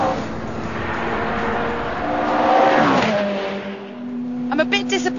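A Ferrari sports car engine revving and accelerating, rising to a loud peak midway then easing off, with a few sharp blips at the end and someone talking over it.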